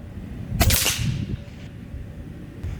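A Gen 2 Diana Skyhawk PCP bullpup air rifle fires a single sharp, loud crack close by, shooting 15.9 grain FX pellets at a 50-yard target, followed by a short fading tail and quiet.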